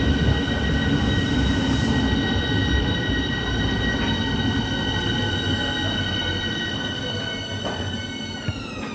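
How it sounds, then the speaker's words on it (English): A Berlin Ringbahn S-Bahn train pulls in with a steady rumble and long, high metallic wheel squeals that hold and bend as it slows. "Wow, this is our train."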